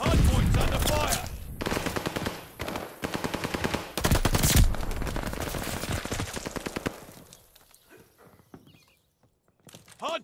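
Rapid automatic gunfire and single shots crackle at a hardpoint in Call of Duty: Vanguard, loud and dense with brief pauses, then thinning to scattered distant shots.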